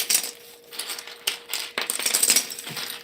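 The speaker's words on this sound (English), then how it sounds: "Let me swap these really quick and see if I still like that." Mechanical keyboard switches and keycaps being pulled and swapped, with close, bright plastic clicks and clattering taps arriving in irregular bursts, some sharp snaps standing out.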